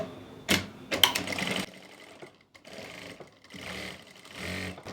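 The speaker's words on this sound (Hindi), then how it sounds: "अब हम इसको बंद करके अंदर वाली सिलाई लगा लेंगे" A sewing machine stitches the inner seam of trousers in close, loud bursts with brief pauses between runs.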